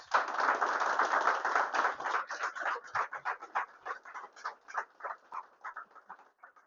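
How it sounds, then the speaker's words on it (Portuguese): A church congregation applauds during a worship service. A thick burst of many hands starts fairly loud, then thins into scattered, rhythmic individual claps that fade toward the end. "Vamos aplaudir a Jesus."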